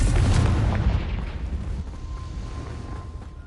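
A Confringo fire spell exploding in the Hogwarts Legacy video game, a loud deep boom with a rumbling tail that fades over a few seconds, alone without talk.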